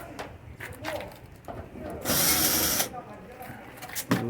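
A power screwdriver backs screws out of the lid of an Electrolux 8 kg washing machine, a single loud whirring burst under a second midway, with low background voice and handling noise around it.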